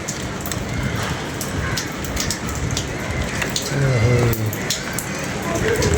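Steady rain patters on a surface throughout, with a few sharper drips and knocks, while a voice talks briefly in the background.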